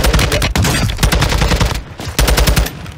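Suppressed automatic gunfire from the video game Warzone 2.0 in loud, rapid bursts, close and dense, with two brief pauses between volleys and no speech.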